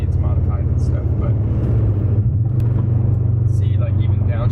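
Modified Subaru Forester STI heard from inside the cabin, its engine rumbling low and steady as it downshifts, with road noise throughout and a person talking over it.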